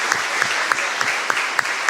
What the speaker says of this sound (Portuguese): se puderem aplaudir, o público presente